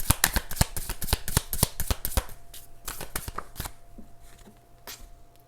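Tarot cards shuffled and drawn in a rapid run of crisp riffling snaps close up, then a few slower, sparser flicks and slides as single cards are pulled, with a faint steady hum underneath.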